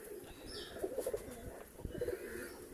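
Pigeons or doves coo softly nearby in two short, low, rolling phrases over a quiet background murmur, with no talking.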